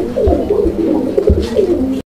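Pigeons of desi Raj Golla, large and Madrasi Golla breeds cooing close by, a repeating series of soft throaty coos with a faint chirp near the end.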